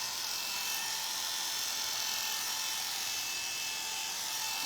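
Electric clippers shaving a schnauzer's coat, a continuous close, steady high buzzing drone with no pauses.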